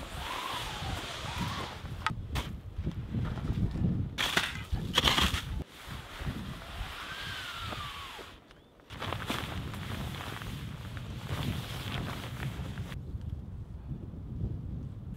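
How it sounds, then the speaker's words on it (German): Winter wind gusts against a tarp shelter at a bushcraft hammock camp, a broad rushing roar with flapping bursts and brief lulls, the fabric buffeted loudly and close. "wie einfach der Wind reinpfeift, wie das Tarp komplett zur Seite geweht wird"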